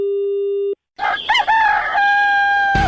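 A rooster crow inside a Radio Mirchi 98.3 FM show jingle, heard after a short steady electronic beep and a brief silence, loud and clear, with a final burst of sound at the end.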